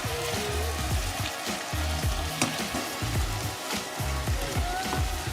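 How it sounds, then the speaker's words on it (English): Steady sizzling and crackling of kimchi frying in sesame oil in a pan, continuous and fairly loud, with occasional scraping or stirring sounds. "Add some sesame oil and we will cook this kimchi."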